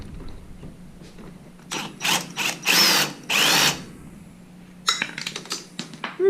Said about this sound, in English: let's get that top bolt off on the shock. Pair of 14s.